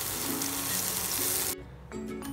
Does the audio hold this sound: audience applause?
no